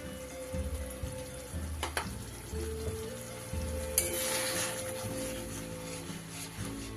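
Tomato paste hits hot oil for a rohu fish curry and breaks into a soft, steady sizzle midway through. The sizzle stays faint beneath tonal background music.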